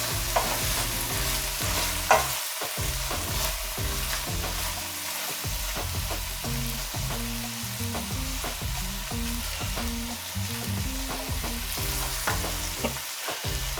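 Sausages and vegetables fry in simmering oil with a continuous close sizzle, broken by scraping and clattering stirs of a utensil against the pan.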